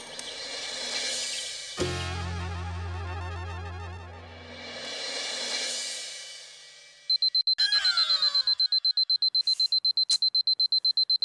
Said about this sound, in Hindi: अलार्म बंद कर